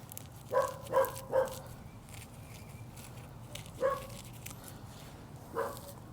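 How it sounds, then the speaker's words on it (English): A neighbor's dog barks from a short distance in a garden setting: three quick woofs in a row, then two more spaced-out single barks, moderately loud over a low, steady background hum. "That's my neighbor's dog."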